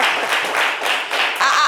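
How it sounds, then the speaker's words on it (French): Studio consultants on a TV panel set applaud in a short, loud burst of clapping from a small group, with a hint of voices underneath. "Vous avez les applaudissements des consultants sur le plateau."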